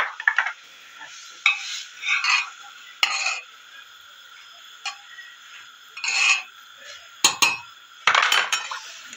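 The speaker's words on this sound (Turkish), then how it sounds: "Karıştırayım çorbayla." A spoon scrapes and clinks around a pot of Turkish umaç soup in short irregular bursts, separated by quiet pauses, close by with no talking.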